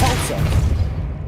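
A Depulso spell blast goes off in Hogwarts Legacy, a loud, boomy burst with a deep low rumble that lingers steadily for over a second with no talk over it.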